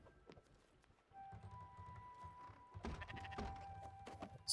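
Sheep bleat in the video game Spiritfarer, with several bleats over a steady game soundscape of music tones and soft hoof-like clopping, rising louder toward the end.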